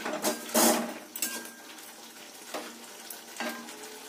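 Spices are stirred and fried in a pan while making a paneer dish, with a quiet sizzle and several short scraping strokes of a utensil against the pan in an uneven rhythm.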